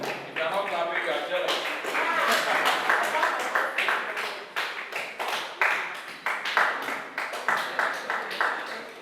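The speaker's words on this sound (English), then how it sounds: "a round of applause" An audience at an event breaks into a round of applause, dense, sustained clapping that thins into scattered, rhythmic claps, with voices mixed in.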